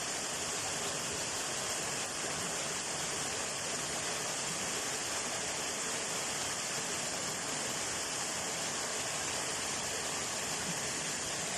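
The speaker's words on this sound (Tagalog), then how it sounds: "May stream tayo rito." Constant rushing water from a stream and small waterfalls on a farm, a steady, full hiss without pauses or voices.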